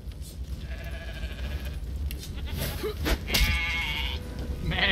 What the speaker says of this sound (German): Das Schaf vergewaltigt uns. Wir sind tot an einem Schaf.